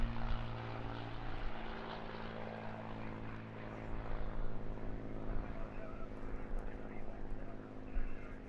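A Supermarine Spitfire propeller fighter named Moonbeam McSwine flies at a seaside airshow, its engine droning steadily and rising slightly as it passes, with crowd or announcer noise faintly underneath.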